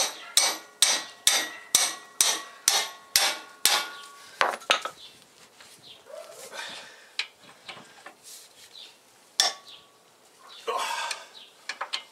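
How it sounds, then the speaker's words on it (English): A ratcheting breaker bar with an 18mm socket loosening brake caliper bolts, a steady run of about a dozen sharp metallic clicks close by, followed by scattered clanks and handling of tools. "so with an 18mm socket on a breaker bar, right behind it"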